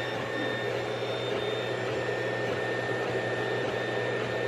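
A 3D printer runs close by, printing a PLA temperature calibration tower, its stepper motors producing a steady, even whir with faint high tonal whines and no talking.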